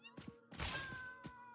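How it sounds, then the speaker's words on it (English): A cartoonish cat meows in Factorio, a short muffled cry followed by a fuller, louder meow with a thump, heard close and brief. "it meows as you chase it, and it angrily meows when it dies"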